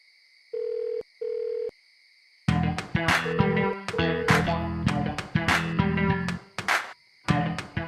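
A phone rings out unanswered: two short ringback tones, then a loud, busy stretch of tonal ringtone music with steady rhythmic pulses, close and clear with no voices.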